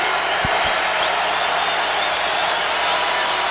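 Basketball arena crowd booing a free throw shooter at a college men's game against New Mexico State, a broad sustained wash of jeering voices that holds steady and loud, with a couple of thumps early on.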